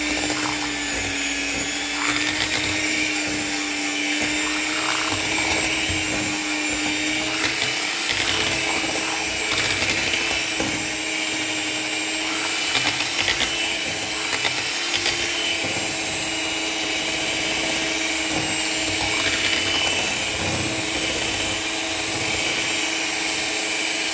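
An electric mixer beats homemade vanilla ice cream base made with Nestlé and evaporated milk, giving a loud, steady motor whine with a constant hum that runs unbroken for the whole stretch, close by and with no talking.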